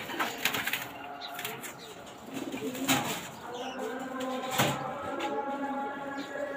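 Pigeons at a pigeon farm coo steadily at close range, with soft low calls repeating over faint background voices and occasional rustling.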